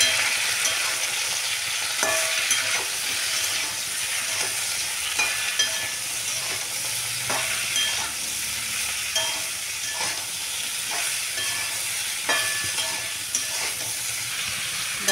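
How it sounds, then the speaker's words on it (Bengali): Food being stirred in a pan with salt and turmeric makes a continuous close frying sizzle, with regular scraping strokes of the spoon across the pan and no speech. "এবার এটাকে ভালো মতো মিশিয়ে নেব।"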